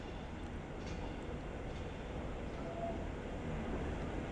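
A Manchester tram pulls away from the Victoria stop with a low, continuous rolling rumble that builds slightly, heard from some distance at a quiet level, without speech.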